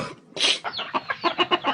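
A chicken clucks repeatedly up close, a rhythmic series of short throaty clucks following an initial louder squawk.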